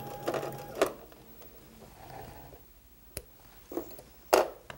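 A sewing machine stitches across the corner of a quilt block, making short separate bursts of mechanical whirring and clicking with quiet pauses between them, close and fairly soft, with no talking.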